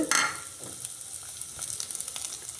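Mustard seeds and urad dal crackle and splutter in hot oil, a busy sizzle with sharp little pops scattered throughout, close and steady, with no voices.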